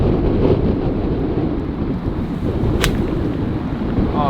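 Strong outdoor wind buffets the microphone in a continuous, loud, low roar with gusty swells, and a brief sharp click partway through.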